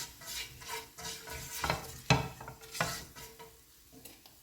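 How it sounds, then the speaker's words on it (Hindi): Coriander lightly frying in a pan for tomato chutney, with soft sizzling and several sharp stirring scrapes and clinks of a utensil against the pan, close and moderately quiet, no voices. "इसको हल्का सा फ्राई करेंगे"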